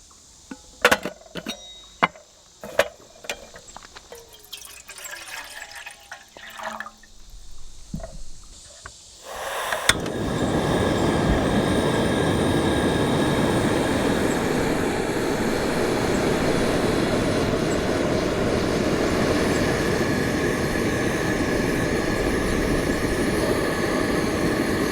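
A NatureHike double burner camping stove roars steadily as two cups of water heat toward a boil, preceded by scattered clicks and handling noises before the burner kicks in loudly.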